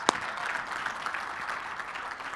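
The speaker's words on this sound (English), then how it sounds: "Give me a clap if that makes sense." Audience members at a seminar clap together, a soft, even patter of many hands that continues steadily without talk.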